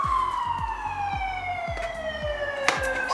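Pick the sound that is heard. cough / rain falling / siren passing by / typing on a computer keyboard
siren passing by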